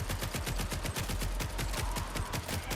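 Rapid-fire weapon in a Doom-style survivors shooter with looter upgrades, a fast unbroken stream of punchy shots at an even rhythm, loud and close, roughly a dozen rounds per second with nothing else over it.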